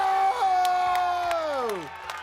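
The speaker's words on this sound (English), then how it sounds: "The crowd goes wild." Crowd at a timbersports championship cheering and whooping in one loud sustained burst, with a rising then falling shout standing out above the mass of voices.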